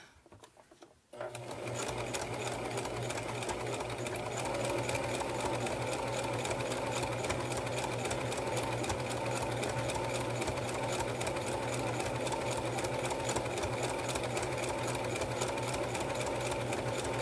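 A sewing machine stitches a fabric reusable coffee sleeve, starting after a brief pause and then running in a steady, fast mechanical chatter of rapid needle strokes, close and continuous with no talking.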